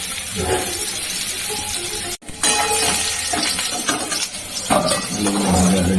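Potatoes frying in hot oil in a kadai for a mutton curry with papaya: a steady, dense hiss and crackle that runs throughout, with a brief dip near the middle and some clinks and stirring.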